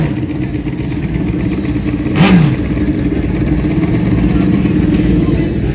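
460 class drag racing motorcycles making passes at a bike fest, a loud steady engine roar with one brief sharp surge midway, heard from trackside.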